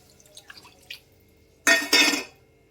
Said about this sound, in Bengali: এবার আমি দিয়ে দিচ্ছি জল, কারণ সর্ষে বেশি নাড়া যাবে না